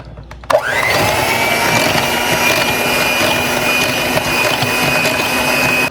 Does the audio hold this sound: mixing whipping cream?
yes